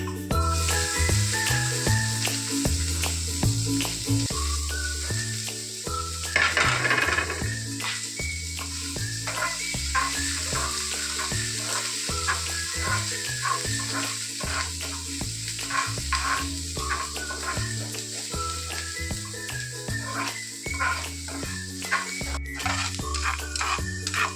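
Onions and green chilies fry steadily in a pan for masala pasta, a constant close hiss and sizzle with occasional stirring, playing under continuous background music.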